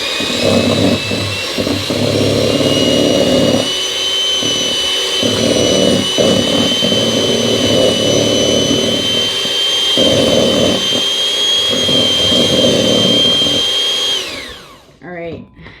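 Electric hand mixer running on its lowest speed, beating ketchup cake batter in a home kitchen: a loud, steady motor whine with a raspy, rattling edge that carries on for about fourteen seconds, then cuts off abruptly.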